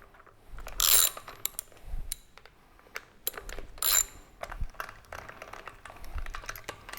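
Metal hex tools and small Allen head bolts clicking, ratcheting and clinking while being removed from a Harley Sportster performance carburetor, with two louder sharp metallic bursts among scattered light taps and rattles.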